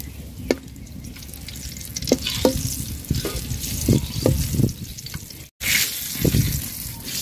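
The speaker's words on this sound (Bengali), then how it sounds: "শুকনা মরিচটা আগে ভাজা নিব তেলে" Dried red chillies fry in hot oil in a pan for a tomato and eggplant mash, giving a steady close sizzle with scattered pops and crackles, broken by a brief dropout near the end.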